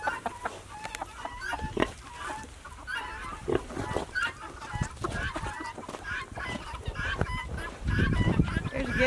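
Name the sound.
guinea fowl reacting to a rattlesnake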